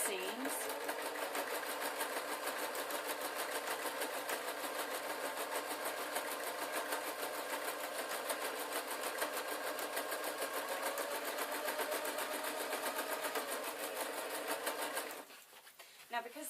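A sewing machine runs steadily, stitching a seam on a canvas denim-style skirt with a fast even mechanical whir, then stops near the end.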